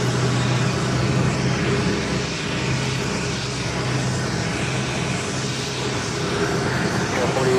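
An Airbus A330-300 pushed back at JFK airport, a steady loud jet engine roar and airport rumble holding constant throughout with no pauses.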